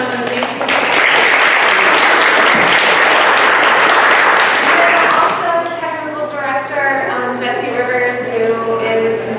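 Audience applause at an evening event honoring a director, a loud dense wash of clapping for about five seconds that fades as a speaker's voice takes over.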